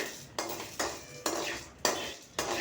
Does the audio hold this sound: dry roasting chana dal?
yes